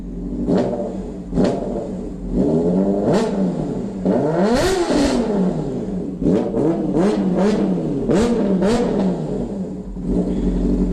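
A freshly repaired motorcycle engine, warm at 110 degrees and running for the first time, revs hard about a dozen times in sharp rising and falling blips over a steady idle, loud and close.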